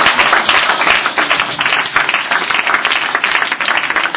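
Enthusiastic applause from a church congregation, dense steady clapping that fills the room for several seconds at full volume with no pauses.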